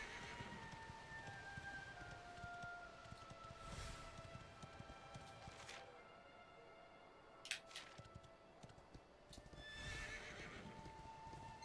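A horse in the Dragon Quest 11 video game clip-clops steadily along with faint hoofbeats under soft rain, and lets out short whinnies partway through, quiet and at a moderate distance.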